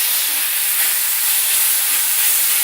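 Vegetables such as carrot sautéing on a high flame for vegetable chapathi, a loud steady hissing sizzle that fills the whole moment without pause.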